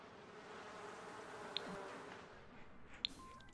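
Steady insect buzzing from bees in The Sims 4 drones throughout, with a couple of sharp high clicks standing out above it.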